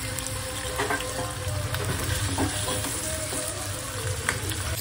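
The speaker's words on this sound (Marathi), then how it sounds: "असे सारे पनीरचे तुकडे सोडून घ्यायचे। चला आता मी आलटून पालटून घेते" Paneer pieces sizzle in oil in a kadai while being stirred and turned, a steady crackling fry with occasional light scraping and clinks from the utensil.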